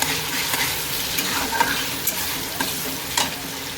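Onions sautéing in a pan for pav bhaji while a spoon stirs them, a continuous sizzle broken by scraping stir strokes, close and alone.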